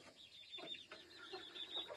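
Several chickens, Isa Browns and Icelandics, cluck and murmur softly nearby at the roost, overlapping low calls in an irregular, chattering rhythm.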